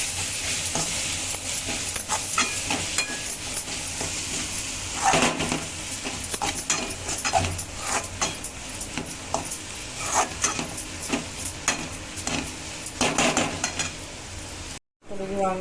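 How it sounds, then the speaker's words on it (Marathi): Spices are stirred into eggplant bharit in a pan with a continuous scraping and clattering of a spoon against the pan and a light sizzle underneath, close and busy throughout. "आणि आता सगळे मसाले आपण मिक्स करून घेऊया"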